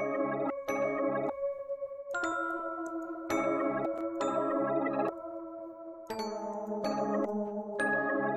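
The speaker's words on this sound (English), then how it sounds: "I'm gonna try to look for like a nice bell or something" Bell tones from the Keyscape Bells and Vibes library in Omnisphere ring out as a slow melodic sequence of struck notes with long sustain, clear and alone without talk.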